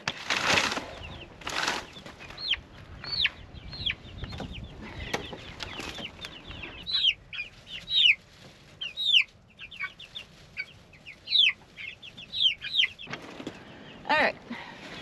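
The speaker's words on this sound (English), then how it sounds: "So we have 9 chicks in here now." Young chicks, including Barred Rocks and a gray Easter Egger, peep and cluck in a coop, with repeated short chirps and occasional wing flaps close by, some louder bursts between softer calls.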